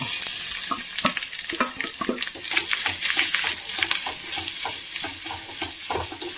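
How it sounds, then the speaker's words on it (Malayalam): Steady sizzling of grated coconut frying in a pan, with repeated scraping and stirring strokes throughout, close and fairly loud. "നാളികേരമൊക്കെ നന്നായി വറുത്ത് വന്നിട്ടുണ്ട്."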